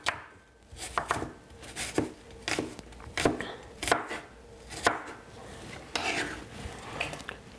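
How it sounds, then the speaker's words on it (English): A medium-sized apple is chopped into small pieces with a knife, about ten close, crisp strikes landing in a steady, slightly uneven rhythm, with soft breathy sounds between the cuts. "please cut it up very small and put it straight inside of a small bowl"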